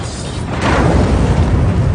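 A deep, heavy nuclear explosion boom swells after a brief lead-in and rumbles on loudly to the end.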